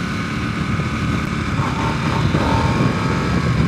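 A cruiser motorcycle engine idles steadily and loudly nearby, a dense continuous rumble with a slight swell in revs toward the end and no voices.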